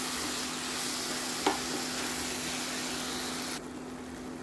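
Mexican rice being stirred together with tomato puree in a sizzling pan, a steady close frying hiss with a soft utensil scrape or clink midway and a hum underneath, no voices.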